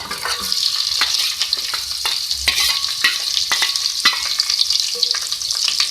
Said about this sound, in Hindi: अब एक मीडियम साइज़ की मेरे पास प्याज है, वो मैं इसमें ऐड कर रही हूँ।